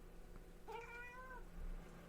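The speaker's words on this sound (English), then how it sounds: "It's a cat." A cat gives a single drawn-out meow near a forest edge, fairly faint against quiet background hiss, with no talking.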